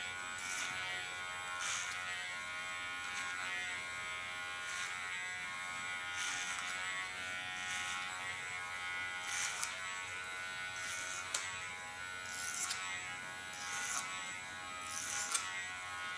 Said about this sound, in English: the sound of a clipper is very important